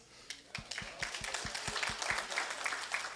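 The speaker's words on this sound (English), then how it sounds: "Round of applause." Audience at a business talk breaks into applause, which builds from quiet into a moderate, close patter of clapping, with a few distinct claps standing out early.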